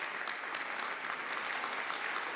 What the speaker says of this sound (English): So let's give them a quick round of applause for that.